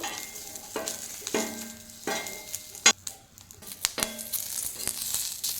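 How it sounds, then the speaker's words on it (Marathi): Green chillies roasting in a little oil on a griddle give a steady close sizzle with intermittent stirring scrapes and a few sharp utensil clicks, no voices. "हे बघा, एवढ्या मी आता हिरव्या मिरच्या छान तव्यावर भाजून घेत आहे।"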